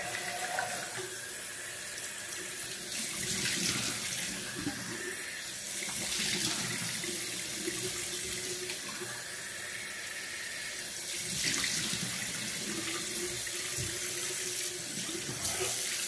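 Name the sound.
cold water running from tap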